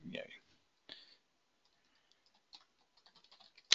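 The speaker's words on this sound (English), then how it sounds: "so basically what I'm typing in is my network password" Someone types a network password on a computer keyboard, producing quiet scattered key clicks: a few isolated taps, then a quick run of keystrokes near the end, with brief faint talk at the start.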